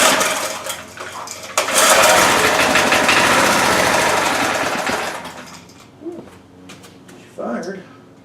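A small engine, choke out and throttle set, catches and runs in a loud, rapid, clattering rhythm for several seconds, then dies back to quiet handling noises and a brief voice.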